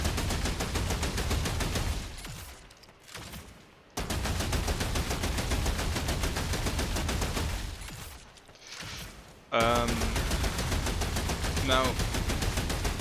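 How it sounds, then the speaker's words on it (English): A fully automatic corrupted weapon fires in the game Remnant 2, with dense, rapid gunfire that runs in long held bursts broken by two short pauses, while someone talks over it. "we can hold the shoot button, and the weapon is basically fully automatic"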